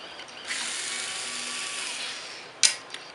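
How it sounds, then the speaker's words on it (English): A cordless drill with an Allen bit whirs steadily for about two seconds at close range while disassembling a Tippmann A5 paintball gun, then stops with a sharp click and a brief mechanical rattle. "I'm using a drill with the right size Allen bit."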